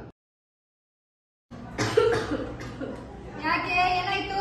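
A woman coughs, sharp and close, after about a second and a half of silence, then several more coughs mixed with nearby voices talking.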